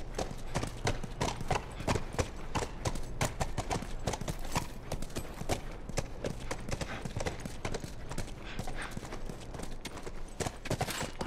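Steady clip-clop of horse hooves from the video game The Last of Us Remastered, in a brisk, regular rhythm, close and clear, continuing throughout without talking.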